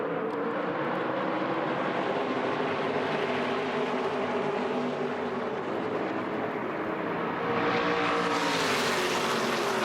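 A pack of ARCA stock cars at the green-flag start at Kansas Speedway, the Speedway 150, makes a broad, continuous engine roar that swells louder near the end as the field passes close.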